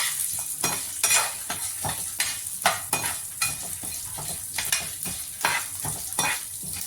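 Garlic cloves, dried red chillies and tamarind fry and sizzle in a pan for Tamil paruppu thuvaiyal, with steady crackling under repeated stirring scrapes and no talk.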